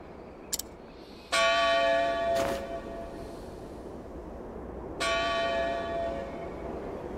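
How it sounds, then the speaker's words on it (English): The Bell of Dawn in Octopath Traveler II tolls twice, each strike loud and ringing with a long, slowly fading resonance over quiet ambience. "That's the Bell of Dawn."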